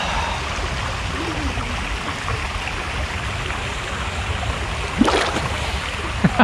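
Water sloshing and splashing in a volcanic hot spa bath in Rotorua, a steady watery wash with a few sharper splashes near the end.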